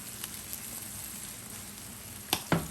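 Small chapila fish frying in oil in a pan, a soft, steady crackling sizzle with a couple of sharp clinks near the end as the fish are moved around.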